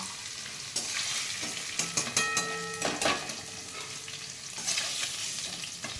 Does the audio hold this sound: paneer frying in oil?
yes